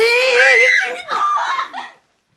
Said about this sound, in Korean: 그녀는 비명을 지르며 몸을 피하려고 했다.